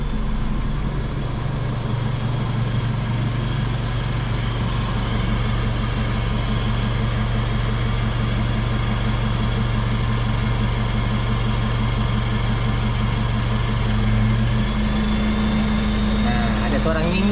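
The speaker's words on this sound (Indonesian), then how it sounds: "Sekarang kita cek suaranya di knalpot belakang ya." Idling Isuzu MU-X heard from the rear exhaust after fitting a custom downpipe and front pipe: a steady, close, low rumble with an even drone, running continuously and alone.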